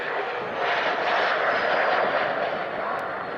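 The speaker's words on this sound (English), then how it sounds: "John Corley giving us a lovely, gentle display from this graceful old lady" An old propeller aeroplane, the same age as the Vulcan, flies a gentle air display, its steady engine drone loud and continuous as it passes overhead.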